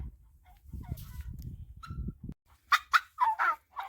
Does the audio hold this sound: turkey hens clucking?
yes